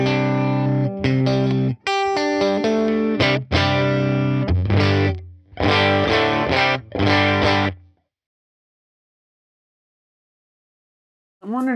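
Electric guitar through a UAFX Woodrow 55 amp pedal, a string of loud overdriven chords and single notes over about eight seconds, then near silence before a final strum begins.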